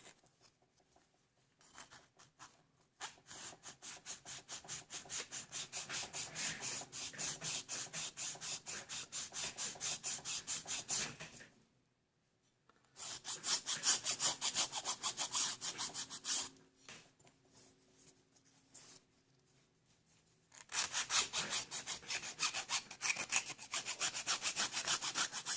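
A hand file scrapes back and forth along the edge of a small circuit board in three long spells of rapid, rhythmic rasping strokes, close and quiet, with short pauses between spells.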